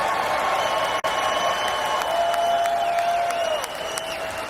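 A crowd at the NFL Draft applauds and cheers in a big hall, a dense, continuous roar of clapping and voices at fairly even loudness with one brief dropout.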